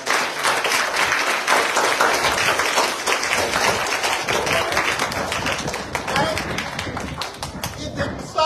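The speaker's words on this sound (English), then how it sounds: "Give him a round of applause." A church congregation applauds loudly and steadily, dense overlapping claps filling the whole stretch, with some voices mixed in beneath the clapping.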